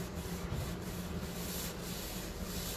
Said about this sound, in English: you're just going to kind of scrub that off